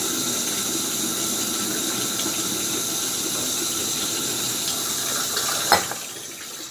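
Tap water runs in a steady, continuous stream in a home kitchen, loud and unbroken, with a short clink near the end and no talking.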